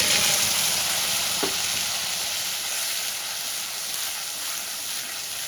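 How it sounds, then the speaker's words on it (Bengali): Tomato, green chili and ginger paste sautés in a pan, a dense, continuous loud sizzle and hiss close by, with a single faint utensil tap early on. "খুব ভালো করে কষিয়ে নেব"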